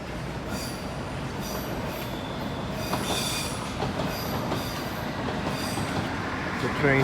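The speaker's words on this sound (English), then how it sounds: "Train just coming into West Kensington Station, which is just down there." London Underground train pulls into West Kensington station below, a loud continuous rumble of wheels on rails with metallic squeals rising toward the end, heard from nearby outdoors.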